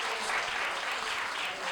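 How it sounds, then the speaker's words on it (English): Audience applause at a spoken word and performance evening, a steady, full wash of clapping from a crowd heard throughout at even volume. "Give yourselves a round of applause."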